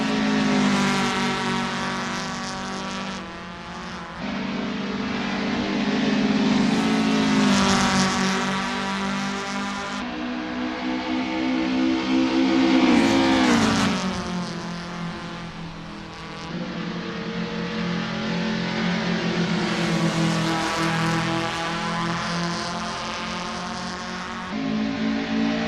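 Nissan Micra K11 cup race car in a sim racing game at Horsma Club, engine droning steadily on an easy outlap with rising and falling revs through gear changes, continuous and fairly close.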